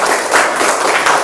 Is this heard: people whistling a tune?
no